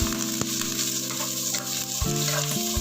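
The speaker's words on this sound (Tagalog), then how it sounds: "ilagay natin ang ating garlic at yung dried shrimp natin" Garlic and dried shrimp fry in hot cooking oil with a bright, continuous sizzle and crackle. A few stirring clicks and a steady background hum sit underneath.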